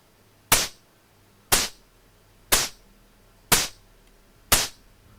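Synthesized snare drum on a Gotharman's LD3 synth with a logarithmic envelope: five evenly spaced, bright noisy hits about a second apart, each with a sharp attack and quick decay, alone without talk.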